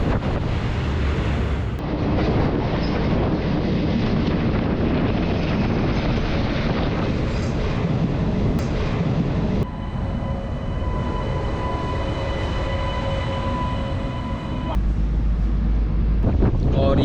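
A Bilaspur Korba passenger train running, with a loud continuous rumble and wind rush, rhythmic rattling of the carriages and a couple of abrupt shifts in tone as it rolls on.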